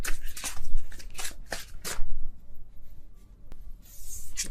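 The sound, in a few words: tarot card being flipped over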